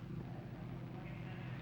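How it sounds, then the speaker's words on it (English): A 1961 Jaguar engine runs steadily on a factory test bed at moderate speed, a continuous low rumbling drone that holds an even level throughout. "With the engine purring healthily,"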